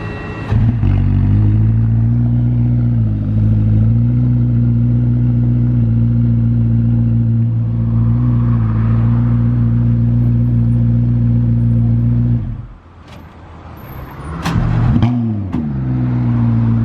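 A hypercar being delivered by truck in Monaco starts up and drives off, its engine holding a loud, steady idling roar, then dropping away before a brief rev surges back.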